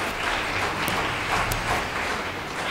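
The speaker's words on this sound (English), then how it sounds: "Please give them a round of applause." Studio audience applause fills the brief stretch, a steady wash of many hands clapping at moderate volume with no voices over it.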